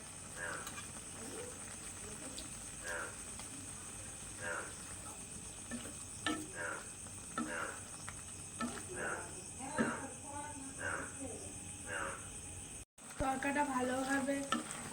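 Curry leaves sizzling and crackling in hot oil for an egg tarka, a steady bright fry with intermittent stirring scrapes, close and continuous with a brief dropout near the end followed by louder spitting.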